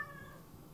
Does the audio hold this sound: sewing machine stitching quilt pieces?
no